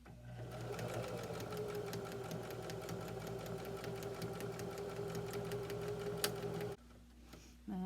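A sewing machine stitching fabric runs in a fast, steady, close mechanical rhythm for about seven seconds, then stops abruptly before a brief restart.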